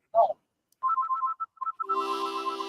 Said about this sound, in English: Phone ringing right here.